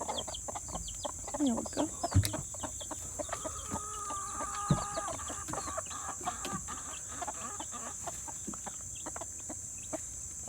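Hens clucking in a coop with newly hatched baby chicks, soft scattered clucks and high peeping chirps close by over a steady background hum, with a person briefly speaking.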